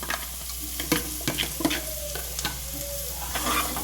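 Cauliflower and winter vegetables sizzle and crackle steadily in a hot pan, with a spoon scraping and stirring now and then, close by and fairly loud.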